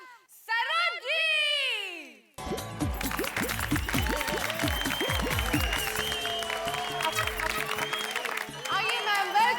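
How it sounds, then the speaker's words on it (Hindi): A studio audience at a Taarak Mehta Ka Ooltah Chashmah disco dance competition breaks into sustained, loud applause welcoming the judge, following a host's announcement over music; talking continues over the clapping. "जोरदार तालियों के साथ प्लीज वेलकम सरोज जी।"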